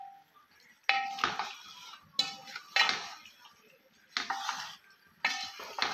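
Utensil scrapes and clinks against a pan as macaroni and vegetables are stirred, coming in several short bursts with quiet gaps between them, close and fairly clear.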